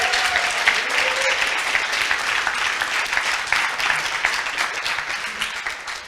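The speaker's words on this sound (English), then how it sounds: "I also want to give them like a huge round of applause" An audience at a Le Wagon coding bootcamp demo day in Montreal claps for the graduating batch: dense, sustained applause at a steady level throughout.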